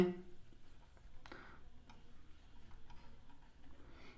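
Chalk or marker taps and scratches on a classroom board in a steady run of faint, irregular ticks over a low background hum, with no voice heard.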